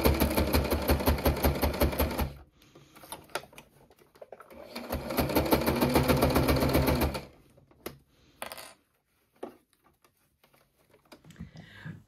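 Sewing machine stitching around the back piece of a cross-body bum bag, two long steady runs of rapid stitching with a short pause between, followed by quiet clicks and handling.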